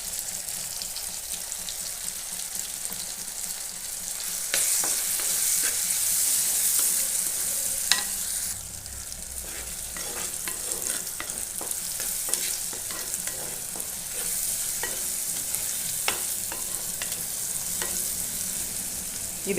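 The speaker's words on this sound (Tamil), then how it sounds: "தக்காளி, வெங்காயம் எல்லாமே நல்லா வதங்கி வந்திருக்குங்க." Tomatoes and onions sauté in a pan with a continuous bright sizzle, broken by frequent scrapes and taps of stirring. No one speaks.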